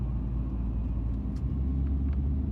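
A car drives down a pitch-black mountain road in the game Scarlet Hollow, a steady low engine and road rumble that holds even throughout, with no voices.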